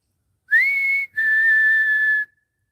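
Two clear whistles in a row, a short rising note and then a longer steady one, close and clean against silence.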